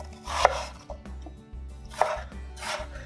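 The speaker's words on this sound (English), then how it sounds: "We'll be dicing the apples into small cubes." A knife dices apples into small cubes on a cutting board, a steady series of close, crisp chops with short pauses between bursts, with no talk.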